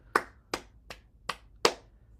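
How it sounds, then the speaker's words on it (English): Five sharp hand claps, each a separate loud slap spaced roughly a beat apart, during a gentle morning bouncing exercise routine. "Clap our hands."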